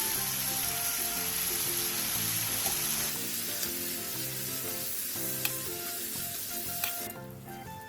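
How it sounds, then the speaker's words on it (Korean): Cucumber, minced garlic and salt stir-fry in an oiled pan, a steady close sizzle with scraping utensil stirs and clicks across it, easing off near the end. "팬에 기름을 두르고 오이, 다진 마늘 1, 소금 1티스푼을 넣고 5분 정도 볶아주세요."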